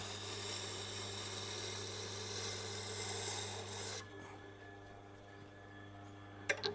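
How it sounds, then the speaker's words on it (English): A long knife edge is drawn along a 1000 grit stone on a Tormek T8 sharpener in steady, even passes, giving a soft continuous rasp over a motor hum that drops away near the end, followed by a couple of light clicks. "it needs a couple of more runs on the 1000 grit to smooth that edge out"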